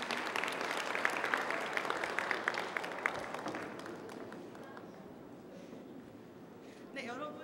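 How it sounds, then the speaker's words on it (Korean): Audience applause at a Korean science creativity concert event, a dense burst of clapping through the first half that gradually thins and fades to scattered claps, with a brief louder flurry near the end. "여러분 다시 한번 큰 박수 부탁드립니다"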